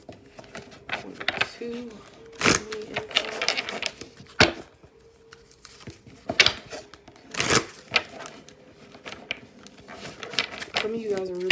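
Tarot cards shuffled by hand in a series of sharp, papery riffles and slaps that come in bursts of varying loudness, with a person speaking briefly in between.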